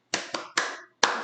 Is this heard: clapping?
yes